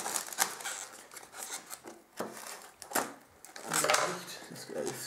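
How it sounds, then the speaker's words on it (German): Close, crisp snips and crinkly cutting noises in uneven bursts as scissors cut open the plastic packaging of a Hobbit collector's edition, with rustling in between. "Ich mache jetzt mit der Schere auf."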